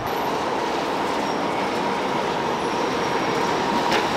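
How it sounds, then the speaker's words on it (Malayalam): A double-decker tram runs through Lviv, Ukraine, with a steady, loud rolling rumble and rail noise. It stays constant throughout, with no voices. "Double decker tram."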